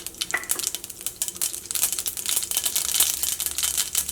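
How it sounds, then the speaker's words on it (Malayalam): Half a tablespoon of mustard seeds crackle in hot coconut oil for a Kerala-style moru curry, giving a steady close sizzle with dense, irregular sharp pops throughout, no voices. "ഇപ്പോൾ കടുക് പൊട്ടി തുടങ്ങിയിട്ടുണ്ട്"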